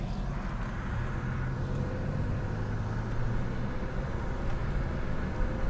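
A 1991 Oldsmobile Toronado out on a drive in hot Florida weather, with the air conditioning running. Heard from inside, a steady low engine and road rumble holds at an even level throughout, with no speech.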